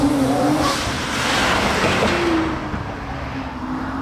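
A Porsche 992 GT3 RS accelerates at a Gumball 3000 stop in Calais, its engine note sustained and fairly loud across the whole stretch, rising in pitch near the start and again toward the end, with no talk over it.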